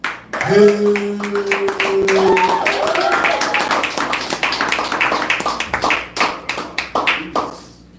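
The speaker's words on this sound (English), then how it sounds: "Clap it up for the comedy silence of Moose." Comedy club crowd clapping as a comedian is brought to the stage, a burst of close, sharp applause that swells and then thins into scattered claps, with a voice and a whistle-like tone near the start.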